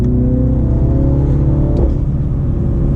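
A Mini Cooper JCW F56 on a Dinan Elite Stage 1 tune pulls hard in third gear, its engine droning loud and steady from inside the cabin as the revs climb.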